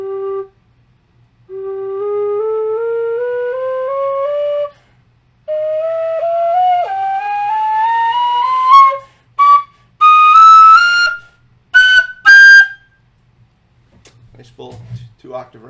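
A Xaphoon, a chromatic fipple instrument akin to a tin whistle, plays close and clear: long sustained notes sliding upward, then a run of short separated notes, ending in near silence.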